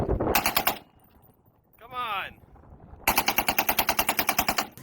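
Toy M4 rifle firing rapid electronic gunfire bursts, a short burst at the start, then a long steady rattling burst after a brief warbling siren-like tone, loud and close.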